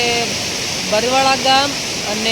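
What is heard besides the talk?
rushing water of a flooded stream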